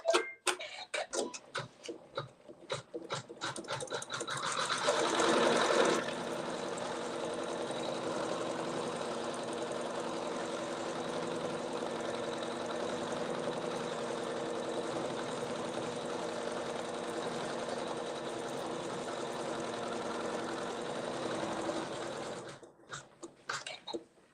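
A sewing machine stitches a quilt block in one long steady run of about seventeen seconds, opening and closing with scattered clicks and handling taps, close by and continuous.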